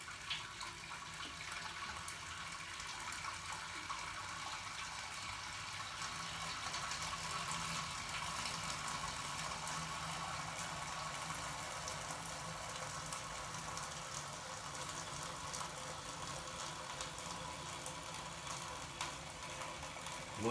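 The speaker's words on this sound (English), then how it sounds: "So what I'll do is I'll drain this off." Water draining from a mash tun during a batch sparge in home brewing: a steady, continuous rushing trickle, faint and unbroken throughout with no voices.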